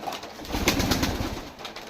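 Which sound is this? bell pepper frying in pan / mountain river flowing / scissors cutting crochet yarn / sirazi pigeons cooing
sirazi pigeons cooing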